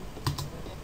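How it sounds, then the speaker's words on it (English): Computer keyboard typing a command on a Windows PC: two or three quick, close key clicks in under a second, with faint room noise around them. "then you want to type netsh int IP"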